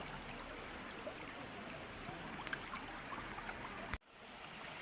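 Soft, steady burble of a mountain stream among autumn foliage on Yongmunsan, faint and continuous with small splashes, cut off abruptly near the end.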